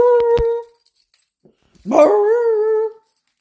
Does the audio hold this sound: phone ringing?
no